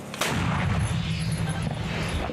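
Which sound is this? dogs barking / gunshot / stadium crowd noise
gunshot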